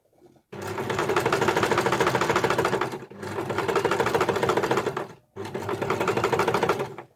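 A sewing machine stitches piping onto a cushion cover in three loud, rapid buzzing runs close by, separated by brief pauses, with no talk.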